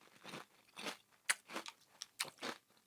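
Someone crunches a bite of crisp three-layer cereal, giving a close, irregular series of about eight dry crunching bursts of chewing with no talking.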